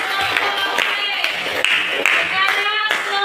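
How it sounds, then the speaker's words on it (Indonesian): Primary school pupils in a classroom clap together in quick, dense rhythmic bursts, close and fairly loud throughout, with a few voices mixed into the clapping. "Oke, tepuk tangan dulu."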